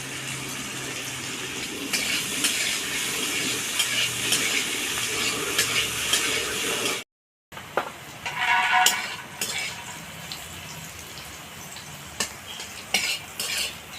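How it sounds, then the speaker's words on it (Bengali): Pumpkin, potato and green chili fry in a pan, with a constant sizzle under repeated scraping and clinking of a spatula stirring the vegetables. A brief silent break comes partway through. "সবজিগুলোকে হালকা লাল করে ভেজে নিয়েছি"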